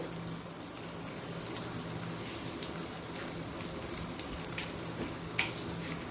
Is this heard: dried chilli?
yes